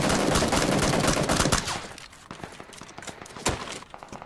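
Gunfire in a battle royale game rattles in dense automatic bursts, loud and continuous for the first second and a half, then thins to scattered single shots with one sharp crack near the end.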